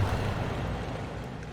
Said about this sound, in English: It heckin' windy.